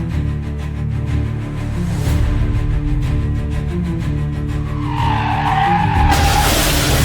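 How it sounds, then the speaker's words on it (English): A car skids on a slippery road before a crash, with a loud droning engine and long tyre skid that rises into a harsh squeal and broadband burst near the end. "the car suddenly came to a stop in the middle of the road, making a heavy collision unavoidable"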